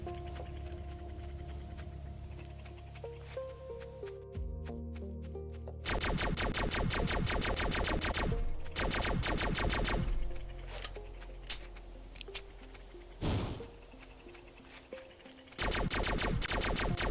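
Incoming gunfire in the shooter Frontiers Reach 2: bursts of rapid automatic fire and loud impacts come in dense stretches, broken by quieter pauses and a few heavy thuds, with a steady low background hum.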